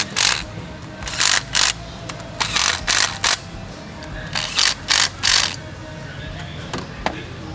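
A ratchet tightens bolts on the oil separator of a 2021 Volkswagen Tiguan: short bursts of rapid clicking in repeated strokes with brief pauses between, close and clear.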